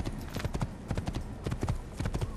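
Horse hooves clip-clopping in Assassin's Creed, a loud, close, steady rhythm of paired hoof strikes at a walking pace with no talk.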